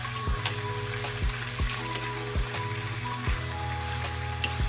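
Onions frying in a pan for a pork steak dish, a steady close sizzle with crackling pops and periodic thumps of stirring or handling, no talking.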